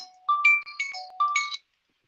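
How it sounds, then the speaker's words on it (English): An incoming phone call ringtone plays a short bright electronic melody of several tones, close and clear, then stops abruptly into silence. "I got a phone call coming in."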